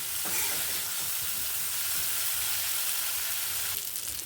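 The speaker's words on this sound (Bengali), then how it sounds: "এই যে ভেজে রাখা আলুগুলো এগুলোও দিয়ে দিচ্ছি এবার আলু সমেত আর একটু কষিয়ে নেব" Fried potatoes and spice paste sauté in a pan for a vegetarian aloo potol korma, giving a steady, loud broadband sizzle with a few soft stirring scrapes, heard alone with no talk.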